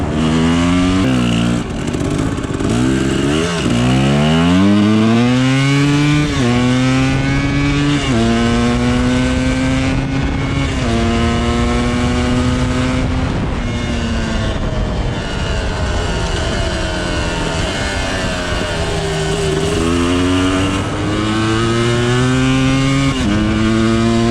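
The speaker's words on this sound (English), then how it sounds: "Bike is running pretty nicely now." A Kawasaki KDX 250 two-stroke dirt bike engine runs loud and close, revving up and down repeatedly with rising and falling pitch over a steady idle.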